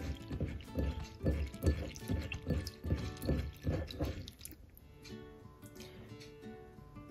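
Urad dal being washed by hand in a bowl of water: rhythmic sloshing and swishing strokes repeated about once every half second for several seconds, then fading to quieter trickling and drips, fairly close and soft, no talk.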